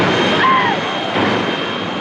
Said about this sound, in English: It's a literal jet, and the thing will just go off like a rocket.